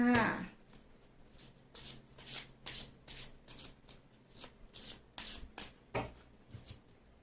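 Tarot cards shuffled by hand in a series of soft, brisk riffling and sliding bursts, close and quiet, with brief pauses between passes and no talking.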